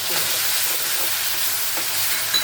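Green masala paste sizzling steadily in a hot pan with cooked garlic, a close, continuous frying hiss with faint stirring scrapes, for a prawn masala.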